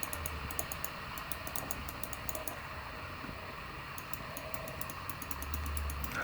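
Quiet, rapid typing clicks from a Logitech keyboard come in two bursts of crisp keystrokes separated by a short lull, close up and soft against a faint background hum.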